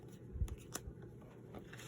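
A tarot card deck being shuffled, a short soft burst of riffling card edges and light taps close by, fairly quiet with no talking.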